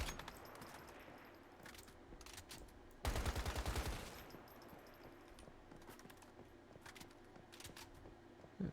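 Gunfire in the survival shooter Once Human, with scattered shots and one dense, loud burst near the middle standing out against a steady game background.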